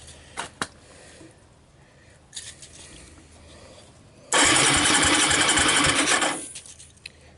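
A Suzuki Quadrunner LT160 ATV with a bent frame and low compression, primed with starting fluid, is cranked with a rapid, loud chugging starter burst lasting about two seconds after some quiet handling noises.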